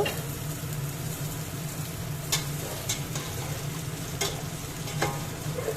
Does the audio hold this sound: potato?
yes